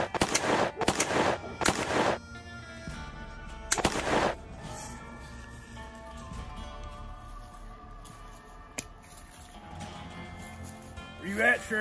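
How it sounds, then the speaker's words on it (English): Gunshots in a Wild West movie scene: several sharp loud bursts in quick clusters early on, then quieter ambience with a distant bang and faint bird-like sounds toward the end. "I'll give you 8 more shots in the heart."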